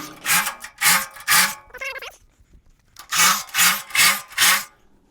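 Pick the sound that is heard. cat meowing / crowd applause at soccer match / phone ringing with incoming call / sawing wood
sawing wood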